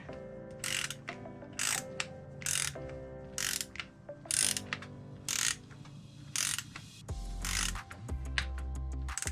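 A torque wrench ratchets on the manifold bolts of a 2009 Ford F-150 engine, giving repeated bursts of close mechanical clicking separated by short pauses, with a sharper click-over near the end and no talking.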